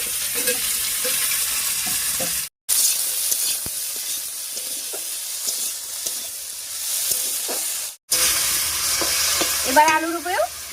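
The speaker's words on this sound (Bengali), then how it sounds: "আর আলু, লঙ্কা, পেঁয়াজ, রসুন সব একসঙ্গে ভাজা হয়ে যাবে" Potato, chili, onion and garlic fry together in a pan for a bitter gourd dish, a steady loud sizzle broken by two brief silent gaps, with occasional stirring scrapes and no talking.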